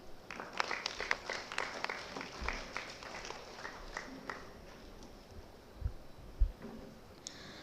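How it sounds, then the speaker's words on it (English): Audience applause at a school event welcoming a grade 11 student to give a speech: a burst of clapping that thins out after a few seconds, leaving faint room noise with a few low thumps. "Please give a round of applause for Dhriti"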